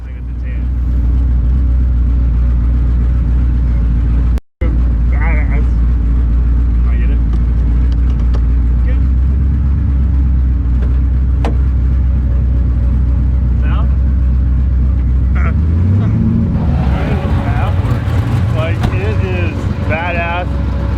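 A 1969 Camaro being driven, its engine a loud, steady low rumble throughout that rises in pitch as it accelerates near the end, with people talking over it.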